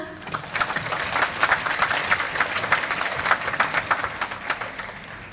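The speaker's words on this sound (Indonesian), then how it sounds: "Mari kita beri aplaus untuk orang tua." An audience at an elementary school graduation ceremony applauds the parents, a steady patter of many hands clapping at moderate volume for several seconds with no voices over it.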